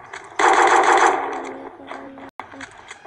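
A burst of rapid video game gunfire rattles for about a second, then fades, followed by a sharp cutoff and a few quieter pistol shots.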